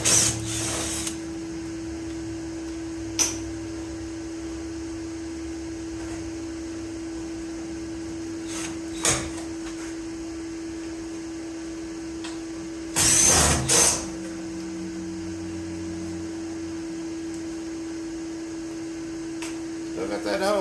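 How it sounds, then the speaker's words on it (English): A power drill backs screws out of a Mustang body in a garage, with several short whirring bursts, the longest near the end, over a steady electrical hum. "Removing some screws now that I had in there."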